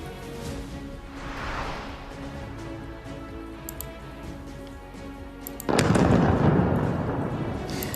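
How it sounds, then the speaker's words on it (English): Low rumbling and scattered distant pops, then a sudden heavy blast that swells into a loud, sustained roar before slowly fading, from overnight explosions in Beirut, Lebanon. "Overnight explosions shake the Lebanese capital."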